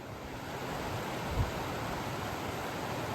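The South Fork of the San Joaquin River rushes beneath a footbridge on the John Muir Trail. The flow makes a steady, broad roar of moving water with no speech.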